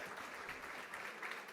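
An audience at an esports awards ceremony, FIC 2023, claps in a short, steady burst of faint applause with no voices over it.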